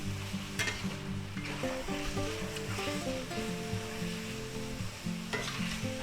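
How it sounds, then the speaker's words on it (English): Shrimp and vegetables for a garlic shrimp stir fry sizzle steadily in a hot pan while being stirred, with a continuous close crackle and irregular clinks and scrapes of the utensil, and no voices. "Stir it around."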